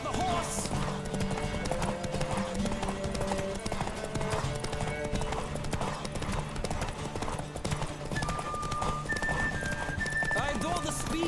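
A horse gallops in The Witcher 3: Wild Hunt on PS4, its steady clip-clop hoofbeats running throughout alongside a neigh, with game music and voices in the background.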